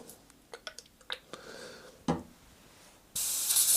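After a few light clicks and taps of handling, an airbrush blasts cleaner through its nozzle in a sudden, loud, sustained hiss of spray that runs to the end.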